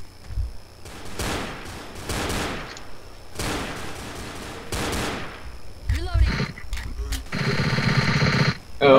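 Bursts of automatic gunfire in the video game Left 4 Dead, several rattling volleys separated by short pauses, ending in a dense, sustained stretch of shooting, with players talking over the action.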